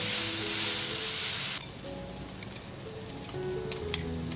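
Chili paste fries in a pan with a loud, bright sizzle that cuts off abruptly partway through. A softer crackle and faint clinks follow, with no talking.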